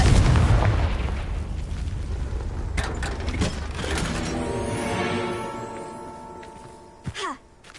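Confringo blasting spell in a Harry Potter video game: a loud, close blast erupts at once and rolls off in a long decaying rumble, followed by a bright magical ringing shimmer and a short sharp pop near the end.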